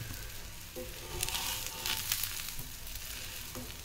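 Ragi and drumstick-leaf adai fries in sesame oil on a pan, a close, steady crackling sizzle that swells briefly in the middle, with no one talking.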